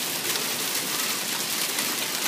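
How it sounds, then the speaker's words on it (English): Small pea-sized hail falls steadily during a spring storm in Spring Hill, Kansas, giving a dense, even hiss of pellets striking surfaces with no voices. "Real small, about pea size is about the biggest."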